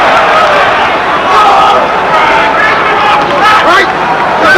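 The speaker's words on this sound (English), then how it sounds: "The crowd is heating up." Boxing arena crowd roaring and murmuring through a bout, a steady dense hubbub of many voices swelling slightly in places, loud and continuous throughout.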